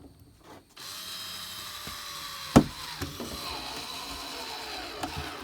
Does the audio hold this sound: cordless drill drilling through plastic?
yes